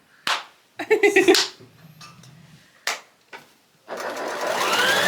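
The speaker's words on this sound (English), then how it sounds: "Just chain stitch them together, one after another, until you have gone diagonally across all of the pieces." A sewing machine chain-stitches fabric pieces for a rag quilt, running in short loud bursts of rapid needle clatter separated by pauses and ending in a longer steady run.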